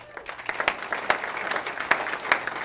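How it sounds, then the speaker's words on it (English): Steady clapping from a crowd at a career pathways end-of-year celebration, with a few sharper claps standing out in the wash of applause. "Let's give them another round of applause."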